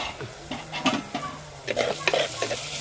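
Chopped onions softening in a pan for a coconut-milk crab curry, with a close sizzle under repeated scraping and clinking of a metal spoon against the pan as they are stirred.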